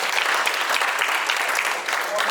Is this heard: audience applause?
yes